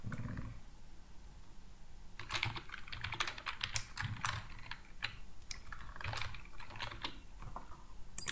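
Someone types steadily on a computer keyboard, a dense run of close, crisp key clicks with short pauses between bursts, with no one talking.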